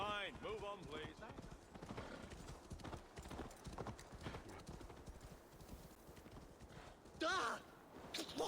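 Horse hooves clip-clopping steadily in the video game Assassin's Creed Valhalla, a continuous rhythmic trot with a brief whinny near the end, heard under game music and talking.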